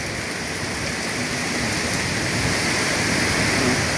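Heavy typhoon rain pours down in a dense, steady roar of drops on surfaces, loud and unbroken with no voices, near the sea in Bicol.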